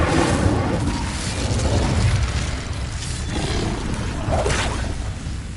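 An Incendio fire spell cast in Hogwarts Legacy, heard as a steady, loud roaring whoosh of flame with rumbling bursts that carries on without pause and has no voices over it.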